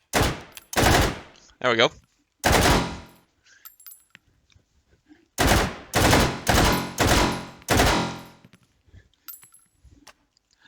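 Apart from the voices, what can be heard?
VZ58 rifle full auto fire, Hot Dogs Horseshoes Hand Grenades game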